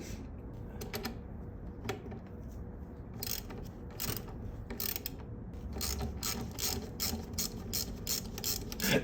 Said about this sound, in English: it's going to be slower with this ratchet